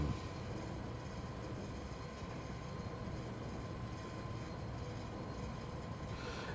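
Train running steadily in Train Sim World 6 on the Great Western line, a continuous loud rumble of wheels and engine with a faint tonal hum, no talk, holding an even level throughout.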